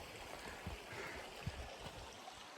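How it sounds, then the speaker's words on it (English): A small river flows below a shady forest trail at Silver Falls State Park near Silverton, Oregon, making a soft, distant, continuous burble with a few faint splashes. "It's a beautiful little river flowing down there."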